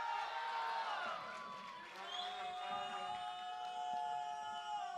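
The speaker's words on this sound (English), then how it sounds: "I had to chant with the crowd, and you guys were yelling for it." An esports tournament crowd at IPL5 chants and cheers for Teemo, a dense, continuous roar of many voices with shouts rising over it, steady and loud for the whole stretch, while a commentator speaks.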